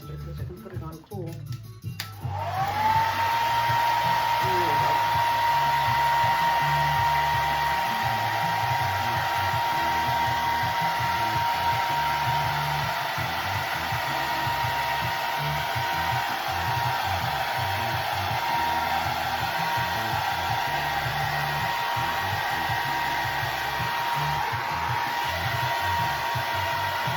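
A hair dryer drying an alcohol ink tile switches on after about two seconds and then blows as a steady, loud whine and rush for the rest of the clip.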